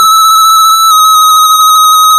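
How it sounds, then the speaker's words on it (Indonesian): An ESP32 smart home system's emergency buzzer sounds in a walkway, giving a loud, steady electronic tone that pulses rapidly for about two seconds and stands alone without talk. "ada buzzer di walkway"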